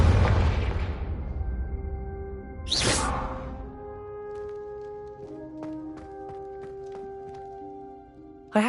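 A Confringo fire spell going off in the Hogwarts Legacy video game: a loud booming blast that fades over a couple of seconds, a second sharp burst, then lingering tonal magic shimmer and a final crack at the end, with game music underneath.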